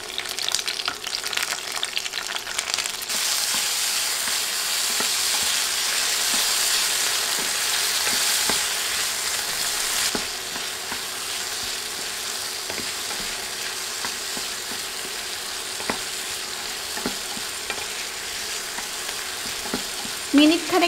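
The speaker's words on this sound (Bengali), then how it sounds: "এখন অনবরত নেড়ে তেলে ভেজে নিচ্ছি।" Chopped capsicum and tomato stir-frying in oil over high heat, a loud continuous sizzle with frequent scraping and clinking of a spatula against the pan, close and without talk.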